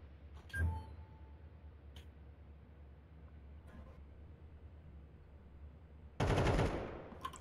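Gunfire in an online first-person shooter match: one short sharp shot near the start, a quiet stretch, then a louder sustained burst of rapid fire near the end.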